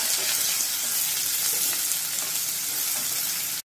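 Two medium onions with green chillies sautéing in a pan for a Malvani-style vegetable dish, a loud, dense, continuous sizzle close up that runs steadily and then cuts off abruptly.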